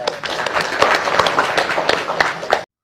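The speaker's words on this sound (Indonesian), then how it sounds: "Tepuk tangan semua ya" Audience applause in a hall after a patriotic song, a thick, steady patter of many hands clapping with some crowd voices, ending abruptly.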